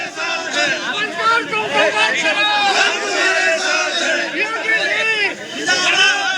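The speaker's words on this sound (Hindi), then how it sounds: "लोग नारे लगा रहे हैं, समर्थन में आ रहे हैं" A protest crowd at a sit-in supporting Alankar Agnihotri chants slogans. Many close, overlapping voices rise and fall together in a loud, continuous mass of shouting and chatter.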